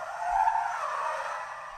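Tires on a 2021 Ford Mustang Mach-E GT electric car squeal in a steady, loud skid as it drifts, with no engine roar under it.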